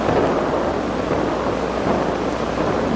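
Amplified neural spikes from a cockroach leg touched with a pen: a dense, steady crackling hiss like static or rain, continuous and fairly loud for the whole stretch with no voice.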